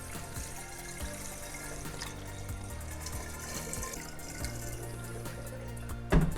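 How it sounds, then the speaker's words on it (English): Water pours steadily into a large carboy for making mead, a constant rushing flow with the tone rising as it fills, ending in a brief knock. "Let's start by putting half of our water into the carboy."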